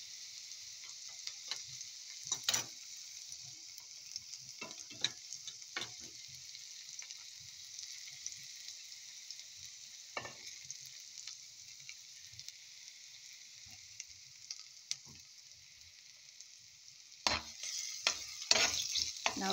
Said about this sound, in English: Now we have to brown this garlics